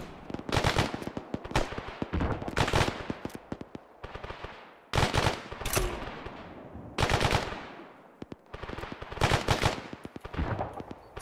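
Suppressing fire in the military video game Arma 3: long, loud bursts of rapid automatic gunfire in repeated volleys a couple of seconds apart, with single shots between bursts and short pauses, and no talking.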